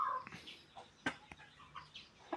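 A young Burmese fighting rooster makes a few soft, short clucks, close and quiet, with faint rustling movement between them.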